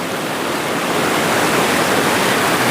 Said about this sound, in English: River is so beautiful.